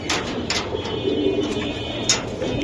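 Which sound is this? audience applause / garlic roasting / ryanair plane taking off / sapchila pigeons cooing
sapchila pigeons cooing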